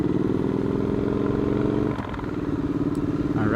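A dirt bike passing close by on a spring country road in Berks County, its mid-pitched engine droning loudly and steadily throughout, with a brief rev near the end.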